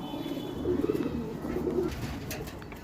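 A large pigeon coos in low, soft phrases up close, a steady murmuring call with faint background bird sounds.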